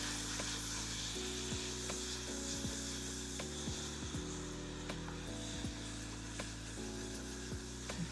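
Seasoned Southern chili ingredients, including a homemade spice blend, sizzle steadily in a hot pan as they are stirred together, with a continuous close frying hiss and no talking.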